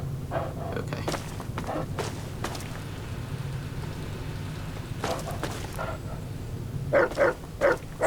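Dogmeat, the dog companion in the Fallout 3 video game, barks several times in short bursts near the end, over a low humming game soundscape with scattered footsteps and clanks earlier.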